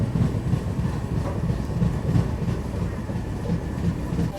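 The KR Rocket superfast express rolls along with a steady rumbling roar and a rhythmic clickety-clack of wheels over rail joints, loud and continuous from close by.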